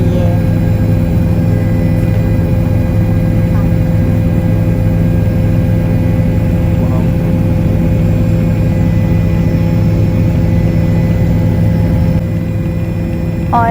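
Helicopter flight toward Kedarnath heard as a loud, continuous low engine and rotor drone, steady for the whole stretch with no talk.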